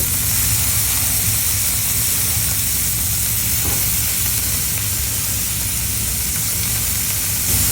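A smash burger patty seasoned only with salt and pepper hisses and sizzles steadily on a hot griddle as it is flipped, a dense, even crackle heard close and alone.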